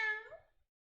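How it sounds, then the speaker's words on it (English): A single short cat meow sound effect from the video game Omori, clear and isolated, rising briefly then fading out within about half a second. "it's the meow from Omori"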